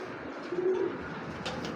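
A foreign racing pigeon in light molt gives a single soft, low coo midway through, faint against a quiet room background with no talking.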